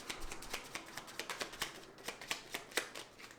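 Tarot cards being shuffled and drawn, a run of quick, crisp papery riffs and flicks coming in an uneven rhythm, close and fairly quiet, with no voices.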